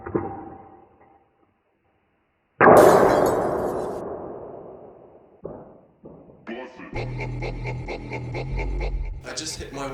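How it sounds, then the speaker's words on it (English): A projectile from a small popsicle-stick trebuchet strikes an indoor window with a sharp, loud clang that rings and decays for several seconds, followed by softer knocks and clattering handling noises. "I just hit my window, so I'm probably gonna stop shooting inside before I break something"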